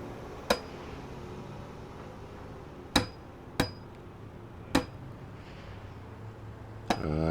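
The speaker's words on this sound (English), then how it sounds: "All right, back to the hammer." Sharp hammer strikes ring out in the Demolish & Build 3 video game, five separate blows spaced irregularly over several seconds against a quiet background, the last followed by a short rattle.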